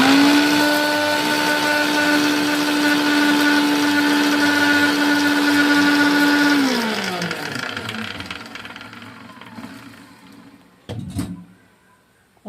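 A mixer grinder whirs loud and steady as it mashes cooked dal with tamarind chutney, then winds down with a falling pitch over several seconds, leaving faint clatter and a brief knock near the end.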